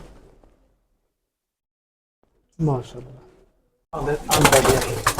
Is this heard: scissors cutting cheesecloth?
no